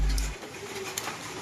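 A racing pigeon at a club training session coos softly a few times, faint and brief against light background noise outdoors.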